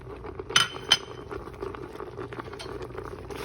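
Spinach and tomatoes are mixed in a pan over high heat: two bright metallic clinks of a utensil on the pan come early, then soft, low stirring and faint sizzling follow with no speech.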